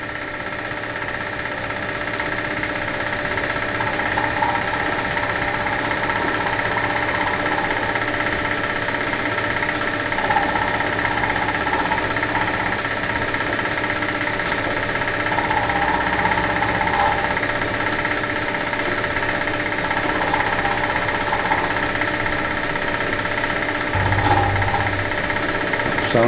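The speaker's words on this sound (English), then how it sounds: "Sorry if it's a bit noisy, mill machine's clattering a bit." A running milling machine turning at 1000 RPM, machining parts for a hit-and-miss engine build, gives off a steady loud mechanical clatter and hum that continues throughout with no voices.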